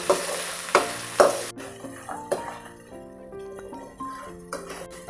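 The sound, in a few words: frying lemon rice seasoning with salt and turmeric on a gas stove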